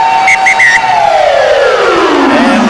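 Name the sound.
stadium siren ending the half of a rugby league match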